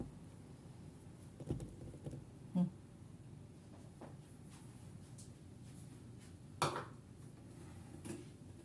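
Dishes being loaded into a dishwasher in a home kitchen: a few separate clinks and clatters of plates and cutlery, close and moderately loud, over quiet background noise with no talk.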